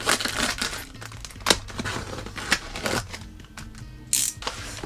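Packaging around a newly printed book being torn open, with close crinkling, rustling and sharp tearing scratches in uneven bursts, fairly loud and with no talking.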